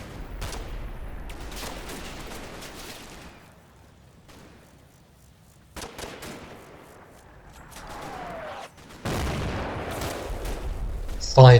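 Battalion artillery fire in the Combat Mission wargame, Operation Epsom at the Odon bridges: repeated heavy shell bursts and booming impacts in separate volleys, some distant and some close, with gaps of quiet between them.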